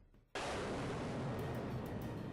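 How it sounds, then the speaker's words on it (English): A sudden loud blast in the visual novel game Amnesia: Memories opens into a sustained roaring rumble of explosion and fire, dense and close, running steadily to the end with no voices. "There's an explosion over there too."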